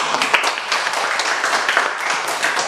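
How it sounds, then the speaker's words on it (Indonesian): Clapping from a small group, likely a class of schoolchildren in a teaching session, brisk and continuous over a few seconds with scattered voices underneath. "Tepuk tangan."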